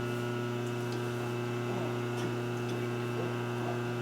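A rotary phase converter runs steadily in a workshop, giving a constant electrical hum with layered tonal drones and no change in level throughout.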